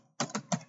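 A few quick, soft keystrokes on a computer keyboard while typing a dig command, close and quiet with no talking.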